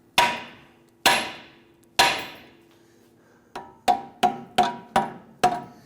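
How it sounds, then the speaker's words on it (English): A sledgehammer striking the steering knuckle to free a ball joint on a 2007-2014 Cadillac Escalade: three spaced metallic whacks, then five quicker blows, each ringing briefly and loud at close range. "sledge and kind of whack the knuckle itself"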